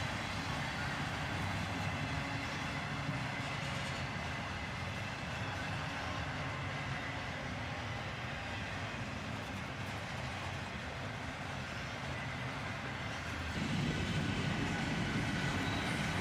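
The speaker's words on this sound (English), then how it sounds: "About 8 minutes in, and it's still slowly cruising by." A long CSX freight train, including an articulated autorack car, rolls slowly by with a continuous low rumble and clatter of cars, growing slightly louder near the end.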